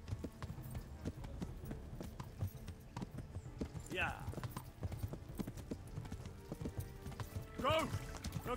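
Horse hooves clip-clop steadily at a gallop in the medieval video game Kingdom Come: Deliverance, a continuous rhythmic beat throughout, with a couple of brief whinnies and someone speaking over it.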